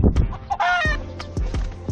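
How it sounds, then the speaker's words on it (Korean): Young hens in a farm coop cluck in short, close bursts, with a few sharp calls standing out over a quiet background. "제리와 그의 어린 암탉들은 봉이가 있는 닭장으로 이사할 계획이다"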